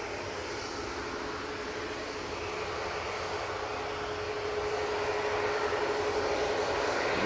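An airliner climbs out from Manchester Airport into a low cloud base, its broad jet roar filling the air continuously and swelling slightly louder toward the end, with no voices.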